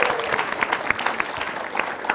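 An audience applauds the two candidate pairs at a mock debate on law and human rights, with crisp individual claps standing out from a steady crowd patter, moderately close and continuous.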